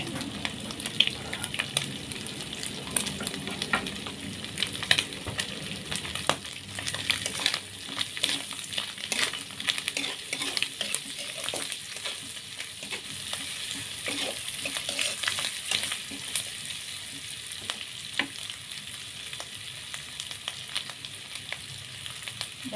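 Red chilies and curly chilies frying in hot oil while being stirred, a steady crackling sizzle with scraping stir strokes, close and continuous.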